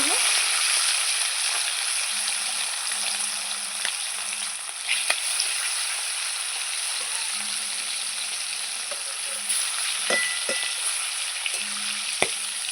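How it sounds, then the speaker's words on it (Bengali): Rohu fish pieces frying in hot oil in a home kitchen, a steady close sizzle with occasional crackles and light stirring clicks, no voices. "তেল আমার গরম হয়ে গেছে এবার মাছ ভেজে নেব আমি"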